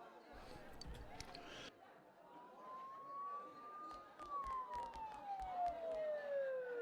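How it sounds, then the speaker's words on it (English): Sirens in the video game Persona 4 Golden rise and fall in a slow, faint wail, with soft game sounds and a voice speaking underneath. "Don't those sirens sound really close?"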